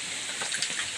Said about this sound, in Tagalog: Hindi ko akalain maulan dito sa Quezon Province.